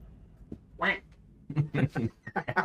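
A duck quacks in several short, fairly close bursts, mixed in among people talking at a tabletop game session.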